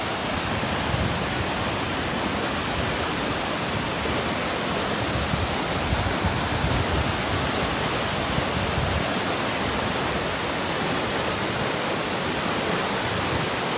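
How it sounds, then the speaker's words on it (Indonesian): Bedegung waterfall and river at Muara Enim, South Sumatra roar in a dense, steady rush of falling and flowing water, loud and close, with no break for the whole stretch. "Tuh sungai."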